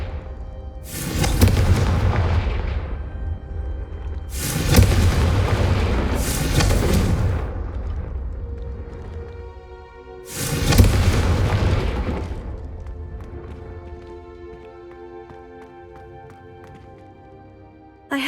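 Three heavy booming spell blasts from Confringo in the game Hogwarts Legacy, loud and close, each with a long rumbling decay, the second a quick double burst, leaving a quiet ringing tail.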